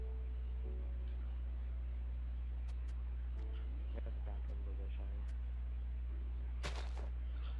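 A man cannon fires a player in the game Minecraft, heard as one sudden explosive burst near the end over a steady low hum, with voices and small game sounds before it.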